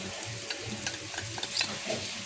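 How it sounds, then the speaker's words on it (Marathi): Turmeric stirred into a frying pan of dried-fish chutney: a steady low sizzle with soft scraping strokes and a few light metallic clicks of a spoon against the pan, close and moderately quiet, no talking. "हळद टाकू"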